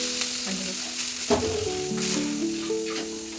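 Onion frying in a pan over low gas in a village kitchen, giving a steady close sizzle with a brief clatter of stirring partway through and no talking.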